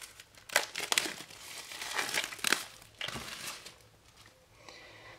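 Packaging on the La voix d'Akasha oracle card deck (33 cards and a booklet) is unwrapped up close, producing irregular bursts of crinkling and crumpling with brief pauses, and no talking.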